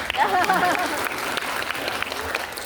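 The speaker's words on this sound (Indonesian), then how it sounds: "boleh tepuk tangan Pak." Audience applause at a university public lecture hall, a dense, steady wash of many hands clapping that holds for the whole stretch with no voices over it.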